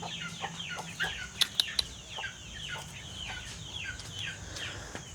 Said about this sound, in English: these are baby chickens